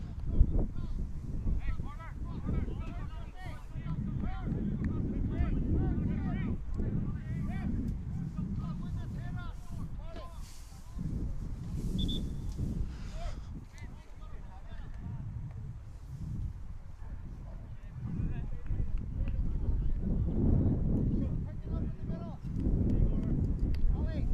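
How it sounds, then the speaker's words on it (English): Wind buffets an outdoor microphone at a youth football match, Under-16 level, as a continuous low gusty roar that rises and falls beneath steady commentary talk. "Getting a lot more wind here."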